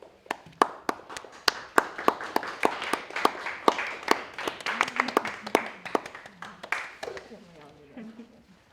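Applause for nursing graduates at a pinning ceremony: sharp, sparse claps from a few people in a quiet room, tapering off near the end as a voice starts talking.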